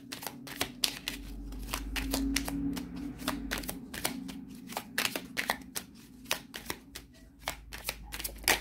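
Tarot cards being shuffled by hand, a rapid series of crisp riffles and soft slaps close up, with cards drawn between bursts; the rhythm is uneven and the sound stands alone.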